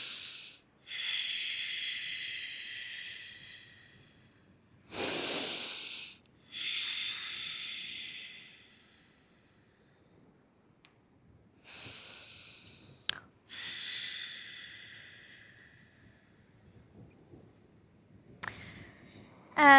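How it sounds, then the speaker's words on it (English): Ujjayi breathing during a soft, floor-based yoga class: several slow, hissing breaths, each a few seconds long with quiet gaps between them, close and audible with no talk over them. "you can do the Ujjayi breath here"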